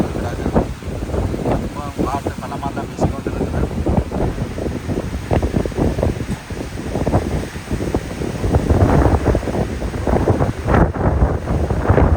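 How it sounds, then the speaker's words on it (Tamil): Strong wind roaring against the microphone on a storm-hit seashore at Valvettithurai while a person talks over it, with gusts swelling louder toward the end. "காற்று பலமாக வீசி கொண்டு இருக்குது"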